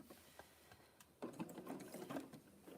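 A sewing machine runs a zigzag stitch over rope to make a small coaster, with quiet rapid mechanical stitching that starts softly, then picks up into a steadier, louder whir with clicking needle strokes.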